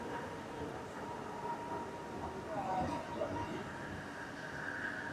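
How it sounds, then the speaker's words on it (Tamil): A Malaysian metro train pulls into a station with a steady low rumble and rising rail hiss, heard at moderate distance amid station ambience. "நம்மளோட மெட்ரோ வந்துச்சு."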